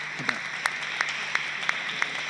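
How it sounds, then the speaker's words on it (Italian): A light patter of audience applause at an Italian literary talk, fairly even and moderate, with a few sharper periodic clicks standing out above the clapping. "È un po' facile prendersi l'applauso su Wallace"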